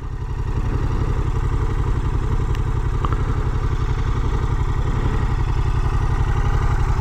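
A Yamaha MT-07 Tracer with its two-cylinder CP2 engine runs at a steady idle close by, a low, even throbbing pulse that continues unbroken and alone.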